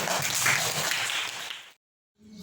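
A classroom of students applauds in a dense, fairly loud patter of clapping that stops abruptly, leaving a short silence before faint room sound returns.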